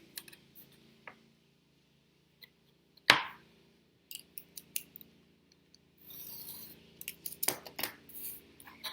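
A single sharp scissor snip cuts through book cover material, followed by quieter rustling and handling sounds and a few more crisp clicks, close and otherwise quiet.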